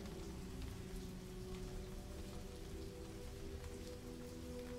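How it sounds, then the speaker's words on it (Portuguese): Steady rain falls continuously on a surface, a dense even patter with no voices and no break across the whole stretch. "Sinta essa chuva divina tocando o teu rosto"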